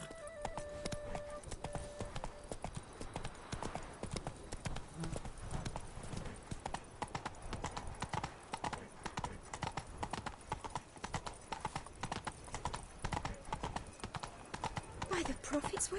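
Horse hooves clip-clop at a steady gallop through most of a Witcher 3 game scene, with a brief whinny near the start and game character voices speaking over the hoofbeats.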